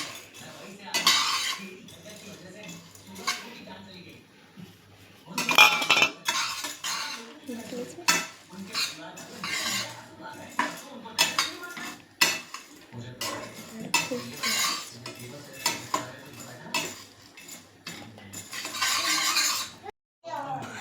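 Spices for methi masala being stirred and dry-roasted in a pan, with steady scraping and clinking of a utensil against metal in bursts throughout, close and fairly loud.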